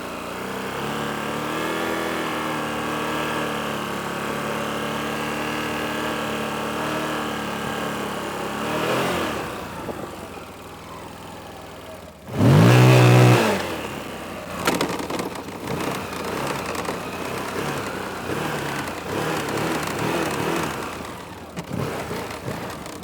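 CFMOTO CForce 1000 ATV fitted with an RNG clutch kit, its engine idling and running steadily before one loud, sharp rev, then settling into uneven throttle and engine noise, close by.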